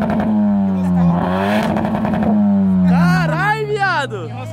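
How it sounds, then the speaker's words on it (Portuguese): A Nissan GT-R engine revs hard, rising and falling in pitch through several loud, close bursts, the last climbing high before easing off. "Acelera até o final e vai embora."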